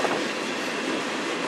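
A CN freight train rolls past on the Strathroy Subdivision, a steady loud broadband roar of wheels and railcars close by, continuous with no pauses.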